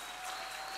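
A church congregation claps together in a steady, dense wash of applause that holds at an even level throughout, with no voices standing out.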